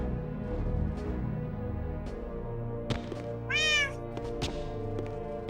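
A cat lets out one drawn-out meow partway through, rising and falling over a steady low background hum, with a few soft knocks around it.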